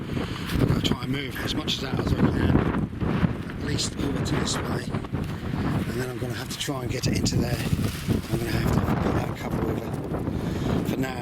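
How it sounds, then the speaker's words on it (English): Strong wind buffets the microphone outdoors on a garden plot, a loud rumbling roar that persists under someone talking throughout. "Sorry about the wind."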